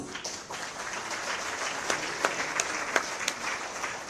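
A round of applause for a team at a Christmas celebration presided over by the Tamil Nadu governor, even crowd clapping with several louder, distinct claps cutting through close by.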